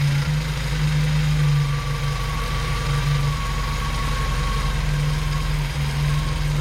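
A 1977 Datsun 620 pickup engine idling just after a carburetor adjustment, a steady close, loud low hum with a droning tone and a slight roughness, running continuously with no voices.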